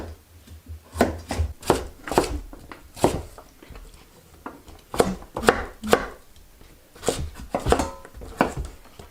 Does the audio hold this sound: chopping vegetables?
yes